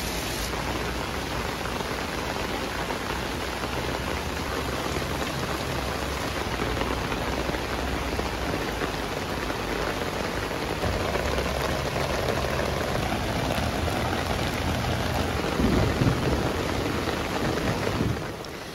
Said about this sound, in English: And now for the part that you've been waiting for, the heavy rain test